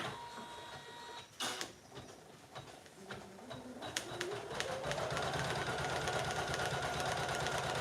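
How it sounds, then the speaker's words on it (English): An embroidery machine stitches a towel with a fast, even mechanical ticking and whirring, starting after a few knocks and settling into a steady, fairly close drone. "I can start embroidering."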